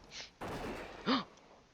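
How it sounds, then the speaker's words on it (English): A gunshot in the World of Warcraft video game: a sudden, loud burst of broadband noise that lingers for about half a second, followed shortly by a brief, rising-and-falling vocal cry. "Do you hear the gunshot?"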